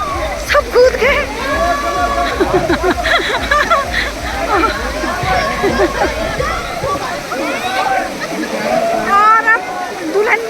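Crowd of wedding guests jumping into the water at a resort pool, sloshing and splashing steadily under loud overlapping chatter and shouts, close and busy throughout.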